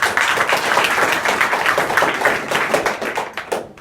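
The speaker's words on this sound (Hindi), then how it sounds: "वेरी गुड, ताली बजाने के लिए।" A group at a school in Azamgarh, India, claps steadily in applause, many hands overlapping in a brisk, continuous patter that tapers off at the end.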